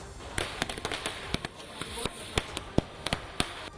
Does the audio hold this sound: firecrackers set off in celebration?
yes